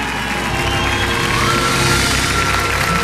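Audience cheers and applauds el Gallo Calderón on the televised dance contest Bailando por un sueño in Mexico, a loud, dense crowd roar that holds steady throughout.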